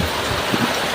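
Rain falling on a village farm in the evening, a close, even hiss of drops pattering on surfaces, steady and unbroken over a brief moment.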